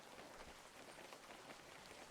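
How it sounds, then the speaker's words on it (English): Steady rain patters on surfaces in the fishing video game WEBFISHING, a continuous even hiss of drops with no voices over it. "Also, there is rain."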